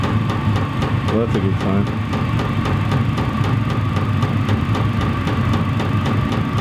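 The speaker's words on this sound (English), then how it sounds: "Oh yeah, the motor definitely did just kick on with the fan." A VEVOR 8 kW diesel air heater's motor and fan run steadily with a rhythmic, pulsing mechanical drone, loud and close, while a person briefly speaks over it.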